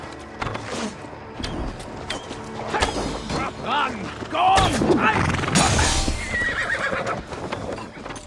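Horses neigh and whinny amid clattering hooves and mechanical clanks during a battle in the Assassin's Creed Valhalla Siege of Paris, with loud, layered whinnies swelling midway over a busy game soundscape.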